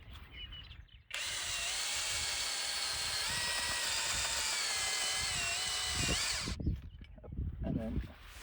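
A large auger boring a level pilot hole into sandy ground for a tiny house foundation: a loud, steady motor whine that runs for several seconds, then cuts off, with voices talking before and after.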